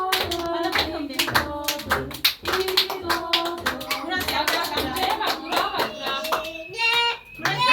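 Hands clap in quick, lively bursts at a grandchild's birthday celebration, the claps loud and close, mixed with children's and adults' voices and singing throughout.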